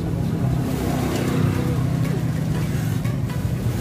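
Inside a Javanese Raja Paket bus on the road, a steady loud engine drone and road rumble continues throughout with a constant low hum and no talk.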